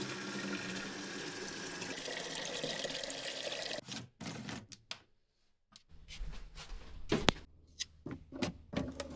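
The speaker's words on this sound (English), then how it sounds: "And we just fill it with regular water." Tap water running steadily into a humidifier tank indoors during a dry Tokyo winter, a continuous pouring rush that cuts off and gives way to short splashes and trickles, with no talking.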